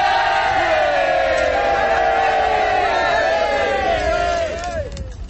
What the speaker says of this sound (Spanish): Una ovación.